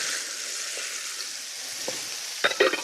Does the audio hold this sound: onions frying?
yes